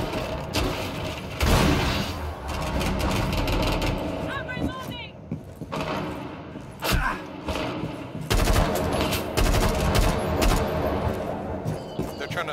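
Gunfire in Rainbow Six Siege on the Theme Park map, with repeated loud sharp shots and bursts of automatic fire spread throughout, plus mechanical clatter and voices talking in between.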